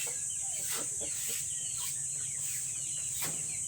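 Rhode Island chickens in a backyard breeding pen, soft scattered clucks and calls at a distance over a steady high insect drone, with no talking.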